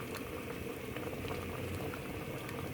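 Dal boiling hard in a pot on high flame, a close, steady, thick bubbling and popping that continues without a break.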